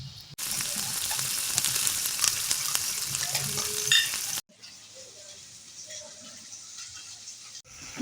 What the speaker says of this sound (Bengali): এটা নতুন আলু ভাজা হচ্ছে।